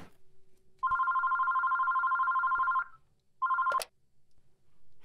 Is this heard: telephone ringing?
yes